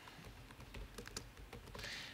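Quick, steady typing on a computer keyboard, close and fairly loud, with irregular bursts of clacking keystrokes over a low room hum and no talk.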